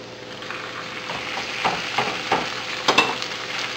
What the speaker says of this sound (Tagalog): Ilalagay na natin ngayon yung pork.